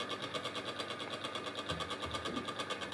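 A hoverboard motor rigged up in a room runs with a fast, even pulsing whir, faint and continuous, without speech.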